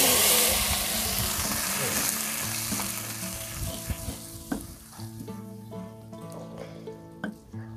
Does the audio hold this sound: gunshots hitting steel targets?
no